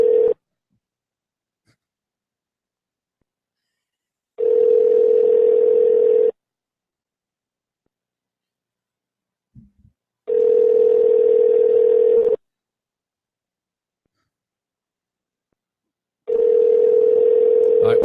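A telephone line tone sounds during a prank call: a loud, steady buzzing tone in bursts of about two seconds, separated by roughly four seconds of silence, repeating four times with no talk.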